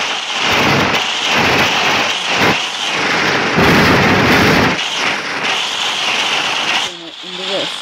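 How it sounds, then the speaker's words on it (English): Thunder cracks and rumbles from lightning in a planet-destruction video game, loud sustained booming bursts over several seconds, ending with a brief voice. "there's lightning."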